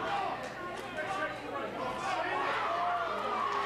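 Crowd noise from a packed boxing match at the Benton Convention Center in Winston-Salem, a steady din of cheering and chatter filling the whole stretch without letting up.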